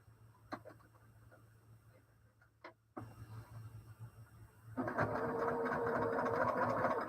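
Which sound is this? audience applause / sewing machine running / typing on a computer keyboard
sewing machine running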